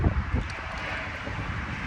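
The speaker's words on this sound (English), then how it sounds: "Ooh, it's breezy." Wind blowing outdoors, a steady breezy rush with low buffeting gusts against the microphone throughout.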